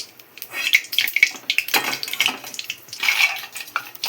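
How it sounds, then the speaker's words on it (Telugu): Peanuts go into hot oil for deep frying, with clattering knocks of a utensil against the pan and a hissing sizzle that rises in loud bursts; no voices. "ఇప్పుడైతే ఇంకా పల్లీలు వేస్తున్నాం"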